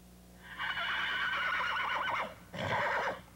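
A horse on a farm neighs loudly and close, one long shaky whinny followed after a short gap by a second, briefer call, with no talk over it.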